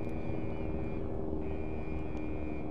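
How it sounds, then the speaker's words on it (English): A helicopter in the military video game Arma 3 drones steadily and continuously in a dense low rumble, staying constant throughout without voices. "You got that helicopter that's flying."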